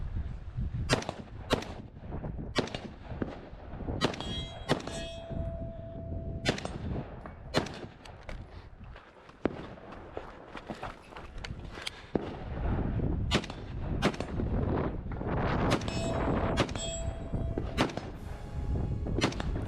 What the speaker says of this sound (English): The shooter starts by engaging 3 steel targets in the rear, with 2 hits each